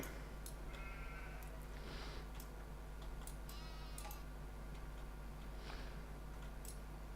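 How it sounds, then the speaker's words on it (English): Sheep bleat in Farming Simulator 17 on The Valley The Old Farm map. A few short, faint bleats sit over a steady low game hum with light ticking, and nobody talks. "Okay, so all our extra sheep are there."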